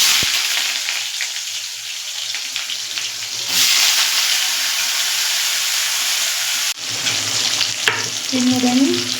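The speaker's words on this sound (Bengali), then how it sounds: "তেল গরম হয়ে গেছে, দিয়ে দেবো আলু পেঁয়াজটা ভেজে নেব।" Potatoes and onions dropped into hot oil and frying, a loud, dense, continuous sizzle close by that swells midway, with brief stirring knocks; no talking.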